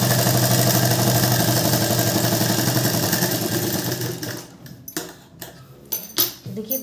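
A sewing machine stitches a blouse seam in a steady, fast mechanical whir for about four seconds, then stops. A few scattered clicks and handling knocks follow, close to the mic.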